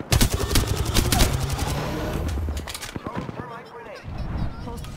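Rapid automatic gunfire from a first-person shooter, Apex Legends, bursts loud and dense in the first half, then trails into scattered shots, with a voice talking over the action.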